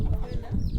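A village chicken in Africa clucks in short, agitated bursts, close and fairly loud, with a bit of background commotion.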